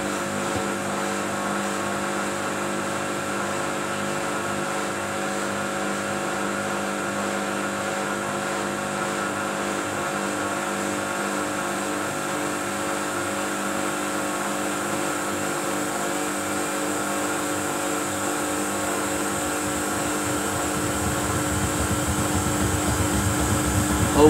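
A Samsung washing machine on its Daily Wash cycle winds up into a spin, a steady droning hum with tonal whine that builds and grows louder toward the end, running alone without talk.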